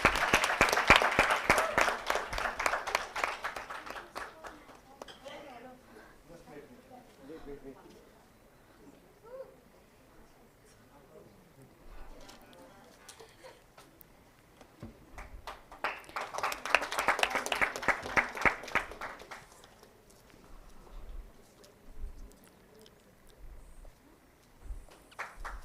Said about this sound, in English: So let's give a huge round of applause to Neha, please.